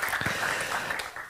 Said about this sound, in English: Yes, a big round of applause